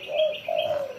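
A spotted dove, known locally as derkuku or tekukur, gives two soft, close cooing notes in quick succession, mellow and hollow with a faint chirp above.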